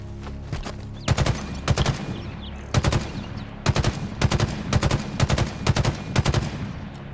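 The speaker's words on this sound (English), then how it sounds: "I hear you shooting at something." Rapid bursts of automatic gunfire in the Halo video game, repeated volleys of sharp shots in quick clusters, loud and close, with no talking.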